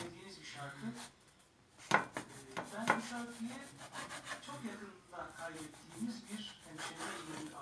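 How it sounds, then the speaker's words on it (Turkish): A knife cuts through half a leek on a wooden surface while oven-baked skewer kebab is prepared, giving two sharp chopping knocks followed by softer rubbing and scraping, close and fairly quiet. "Burada bir de arkadaşlar yarım piremiz var. Onu da böyle keseyim"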